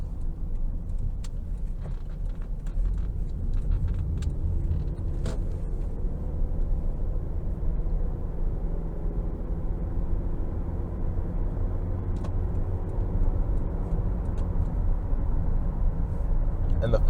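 A 2009 Toyota Camry LE with a naturally aspirated four-cylinder engine and five-speed transmission accelerates, heard as a steady low engine drone with rising harmonics under constant road and cabin noise.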